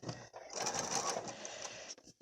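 A sewing machine back stitches a fabric face mask edge, running steadily for about a second and a half at a moderate level before stopping, with faint background noise around it.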